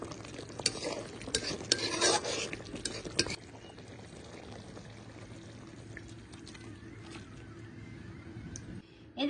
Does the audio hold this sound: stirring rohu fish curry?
yes